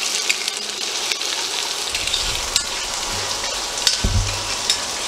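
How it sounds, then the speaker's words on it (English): Red wine short ribs sizzle steadily in a pan as drippings are scraped from the bottom, a dense crackling hiss with soft low scraping strokes in the second half. "keep scraping the pan of all those drippings from the meat"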